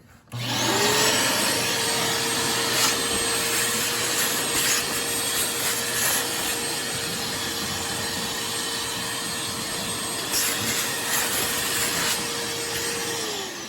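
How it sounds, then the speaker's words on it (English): A vacuum cleaner runs steadily and loudly, sucking up dirt around the fuel pump area of a 2006 Dodge Ram 1500 Mega Cab, with scraping and rubbing bursts as the nozzle works over the surface. "I'll vacuum that up"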